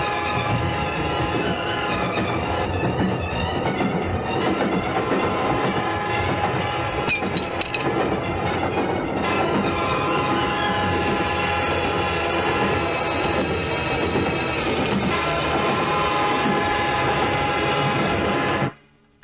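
A train rolls along a railway track in a long, loud, continuous rumble with clattering wheels, holding steady for nearly twenty seconds before cutting off abruptly.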